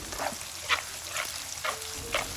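Onions frying in a pan: a steady crackling sizzle broken by five or so short scraping stir strokes at an irregular pace, close and clear, with no voices.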